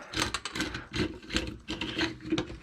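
A plastic drain cleaning tool is pushed and worked into a clogged bathroom sink drain, making rhythmic close-up scraping and rasping strokes about twice a second, moderately loud and without talk.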